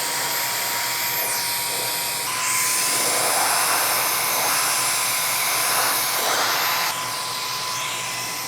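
A MECO electric air duster with a brush attachment, used to dust model tank cars, blows with a steady high-pitched whine that swells louder midway, then eases back, with no talking.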